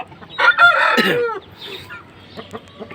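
An Aseel rooster, a very short-statured bird, lets out one loud, close crow that rises and trails off over about a second, followed by quieter scattered farmyard sounds.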